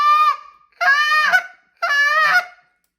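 A goose call is blown to imitate a deep, hollow gander honk: three loud, close honks with short pauses between them, and no other sound.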